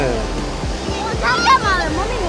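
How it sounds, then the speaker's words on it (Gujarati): Sea waves breaking on the shore at Somnath beach in Gujarat, heard as a steady broadband wash of surf with a brief surge near the middle, while a voice talks over it. "મોજા આવે એ ભરતી ને ઓટ ને એના હિસાબે મોજા આવે"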